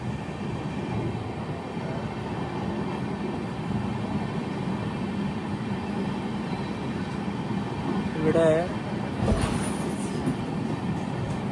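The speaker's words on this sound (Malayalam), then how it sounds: "മധ്യപ്രദേശിലെ Bina railway station train skip ചെയ്യുകയാണ്." The Himsagar Express runs through Bina railway station in Madhya Pradesh at about 130 km/h, a steady loud rolling rumble with a brief wheel squeal and a burst of noise near the end, a voice briefly heard over it.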